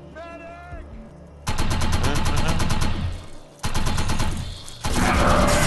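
Weapons fire in the video game Defiance: loud, rapid bursts of automatic gunfire in several long volleys with brief gaps, following a short spoken phrase.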